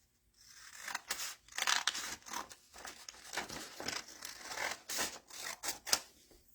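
Scissors snip repeatedly through a sheet of paper to trim off its edge, giving a close series of crisp cutting strokes with slight paper rustle, no voices.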